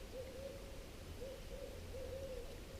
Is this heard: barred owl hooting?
yes